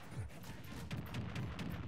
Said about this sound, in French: Il y a beaucoup d'explosions